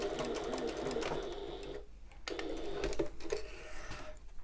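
A sewing machine stitching across a shoulder bag with a ring held clear of the needle makes a steady close rattling whir, with a brief pause partway through, fairly quiet overall.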